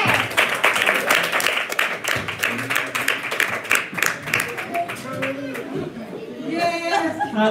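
A church congregation claps in praise during a worship service, with dense, steady rhythmic hand claps that later thin out under voices and chatter, and a brief sung tone near the end.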